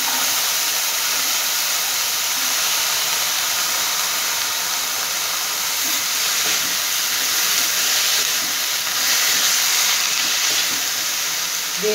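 Chopped capsicum sizzles in a hot pan with a loud, even hiss that holds steady throughout, with no voices.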